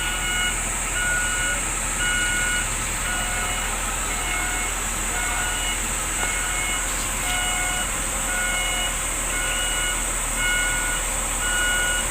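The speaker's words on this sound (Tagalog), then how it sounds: "atras na yung truck" A truck reverses while hauling a nipa hut to a neighbouring lot in the Philippines, its reversing alarm beeping in a steady repeating pattern over a loud, constant engine and road rumble.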